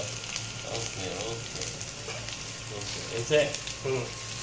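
Spices for Saudi mandi rice sizzling in a pan while being stirred, steady frying hiss with soft scraping strokes and a couple of louder clinks near the end.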